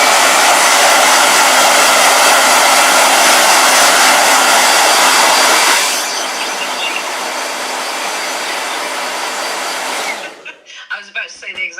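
Blow dryer running loud and close with a steady broadband roar that drops to a lower setting midway, then cuts off abruptly near the end.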